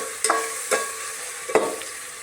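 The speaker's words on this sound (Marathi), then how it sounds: "तेल सुटपर्यंत भाजायचं" Masala roasts in oil in a pan, a steady sizzle broken by three sharp spatula scrapes and knocks at uneven intervals.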